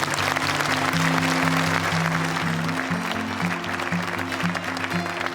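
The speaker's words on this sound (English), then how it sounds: "should have another round of applause" A crowd applauds steadily, dense clapping throughout, with a low repeating musical tone underneath.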